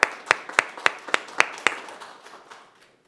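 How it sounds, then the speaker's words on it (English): Short round of applause at a city council meeting: a handful of sharp, evenly spaced claps followed by a fading patter of scattered clapping, close and moderately loud. "please give them one more round of applause to wrap things up"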